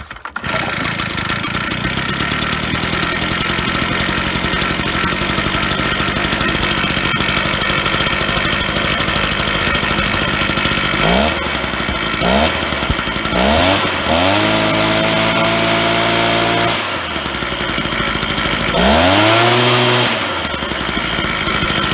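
A Stihl BR380 backpack blower roars loudly at first, then falls silent as the engine is pulled several times in quick sputtering bursts before catching and revving up, running steadily near the microphone.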